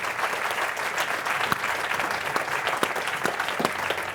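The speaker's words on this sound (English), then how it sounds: "Ladies and gentlemen, please give a big round of applause." An audience applauds at the close of a panel session on Mughal court art, producing a full, sustained burst of clapping at close range with a few louder individual claps standing out.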